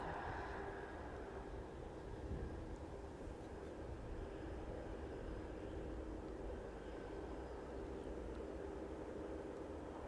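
A steady, distant roar of an airliner landing at East Midlands Airport in the evening holds evenly for ten seconds with no voices.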